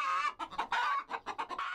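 Chickens kept for sale in Egypt cluck in quick, irregular bursts, several birds close by, the calls loud and choppy with short pauses between them.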